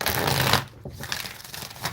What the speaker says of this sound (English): I'm going to do a couple more shuffles to clear that energy out of there.